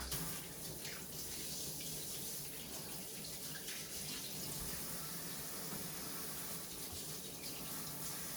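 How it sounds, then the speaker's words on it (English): A tap runs steadily while hands are washed at a kitchen sink. The water makes a faint, continuous gushing hiss throughout with no pauses. "So I'm just gonna wash my hands."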